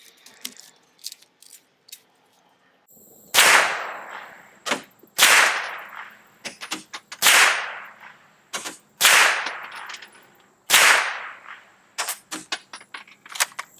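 Suppressed Heckler & Koch MP5SD firing 9mm through a standard-length barrel, six sharp, loud shots at steady intervals, each with a short crack and quick decay, plus mechanical clicks and clatter of the action between them.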